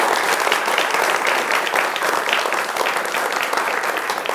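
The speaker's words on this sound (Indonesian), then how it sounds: "Tepuk tangan ya, teman-teman." A studio audience of university students applauds on a television talk show, a dense and fairly loud burst of clapping that holds steady throughout.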